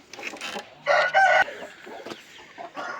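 A rooster crows loudly nearby while hens cluck and chatter around it, a busy close-up barnyard chorus.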